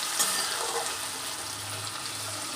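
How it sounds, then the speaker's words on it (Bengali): Diced potatoes with a little turmeric frying in a covered pan, a steady soft sizzle with a brief clatter at the start and no talk. "ঢাকা দিয়ে আলুগুলো আমি ভেজে নেব।"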